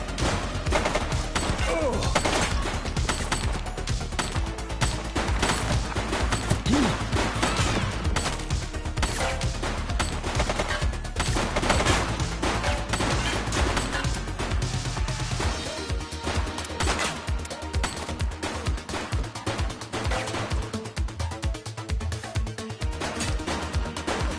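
Dense, continuous gunfire in the video game The Precinct, loud crackling bursts and crashes running nonstop with busy game noise and no pauses.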